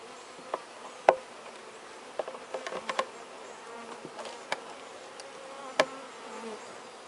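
A package of Italian honeybees hums in a close, steady drone during installation, with scattered sharp clicks and taps of handling breaking through the buzzing.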